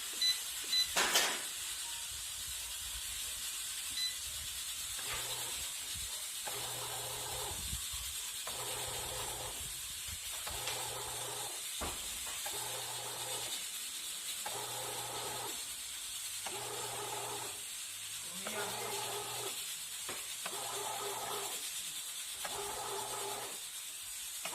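A Britânia bread machine works through its dough cycle with a steady background hiss and regular, evenly spaced mechanical kneading pulses that start and stop in a repeating rhythm, close by and fairly quiet.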